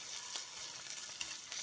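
Mushrooms fry in a pan with a steady, close sizzle and occasional crackling pops, fairly quiet and with no talking over it.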